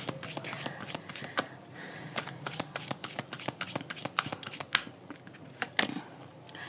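Tarot cards shuffled by hand at close range in a quiet room, giving a long run of crisp riffling flicks and sharp snaps with no talking.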